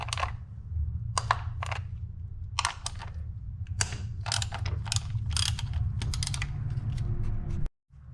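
A ratchet wrench clicks in quick, uneven bursts while loosening 10mm coil pack bolts on a Kia Optima 2.0L four-cylinder engine, close and distinct over a low steady hum, with no talk.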